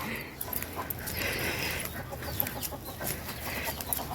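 Village chickens and ducks clucking in an evening yard in Teliamura, with scattered nearby clucks and calls over a busy background of outdoor noise.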